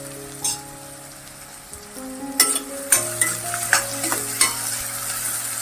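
Chopped onion sautés with salt in a pan, giving a soft continuous sizzle broken by a series of sharp scraping clicks as a utensil stirs against the pan, close and clear.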